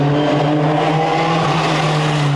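A Peugeot rally car runs during pre-event testing for the 2002 Rally of Catalonia. Its engine gives a loud, close, sustained drone with a strong steady tone throughout the short burst.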